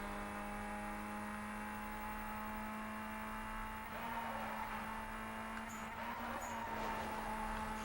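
A Volkswagen Golf GTI races in the Xbox 360 game Need for Speed Most Wanted. Its engine holds a steady, buzzing drone throughout, with a slight surge in intensity about halfway through.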